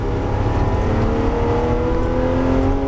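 A Porsche GT3 accelerates on the Jean-Pierre Beltoise race circuit, its engine a loud, sustained rising whine heard from inside the car with no talking.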